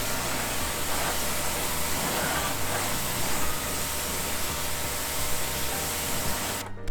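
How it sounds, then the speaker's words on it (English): A pressure washer sprays water onto a car wheel with a steady, loud hiss over a low pump drone, continuing unbroken until a brief clunk at the very end. "When you're spraying your wheel down,"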